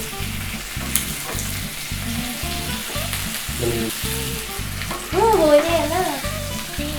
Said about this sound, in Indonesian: nanti telurnya digoreng di sini.